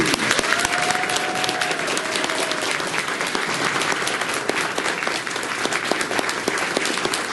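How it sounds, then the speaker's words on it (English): A comic con audience applauding guests arriving on stage, sustained loud clapping from a large crowd in a hall, steady throughout with occasional sharper individual claps and a faint voice near the start. "Round of applause, please."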